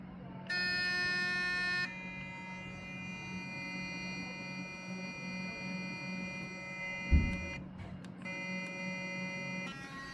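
Curaprox Hydrosonic Pro electric toothbrush running, a steady high buzzing hum that pauses briefly and restarts in short bursts, heard close, with a soft knock partway through.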